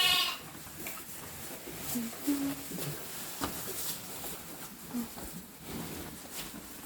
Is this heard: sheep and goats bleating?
yes